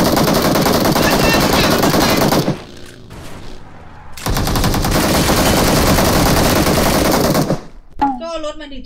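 Gunfire in PUBG Mobile: loud sustained automatic bursts in two long stretches separated by a short lull, close and intense, with a brief voice at the very end.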